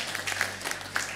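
A church congregation applauding during a sermon, a brief soft wash of many hands clapping together at moderate distance.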